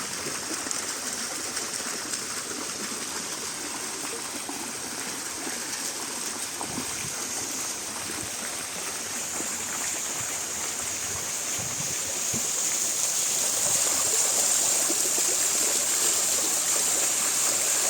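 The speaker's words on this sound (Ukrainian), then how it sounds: "Такий фонтанчик працює." A small park fountain runs steadily, its water flowing and splashing in a constant broadband rush that grows slightly louder toward the end, with no talk.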